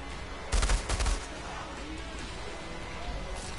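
Anomaly Barrage ability firing in the shooter game Outriders, a rapid burst of loud overlapping blasts lasting about half a second, then quieter game ambience with a faint late thump.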